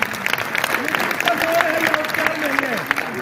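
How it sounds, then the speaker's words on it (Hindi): An audience at a Hindi comic poetry gathering in Hisar gives a steady burst of applause, with a voice speaking over the dense clapping. "एक बार आप अपने सम्मान के लिए ताली बजाइए"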